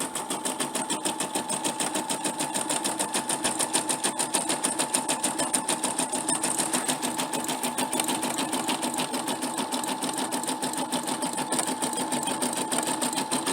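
A small embroidery machine stitches a design onto a shirt held in a small hoop, giving a steady, rapid mechanical chatter that runs unbroken at close range with no voices.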